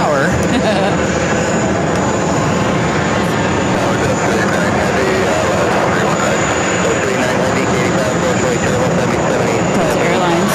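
A Brussels Airlines Airbus A330-900neo jet rumbles loud and steady at JFK airport, a broad continuous roar without letup, with a voice talking over it.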